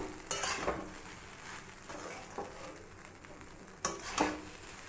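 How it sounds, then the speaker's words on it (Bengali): Jeera rice being stirred and lightly fried in ghee, with a low steady sizzle broken by a few sharp scraping strokes of a spoon against the pan. "ব্যাস ঘি দিয়ে নাড়াচাড়া করে নেবো, কারণ মিষ্টিটা মেল্ট হয়ে গেলে জিরা রাইসে খুব একটা বেশি কিছু নেই, আর একটু সামান্য ভেজে নেওয়া"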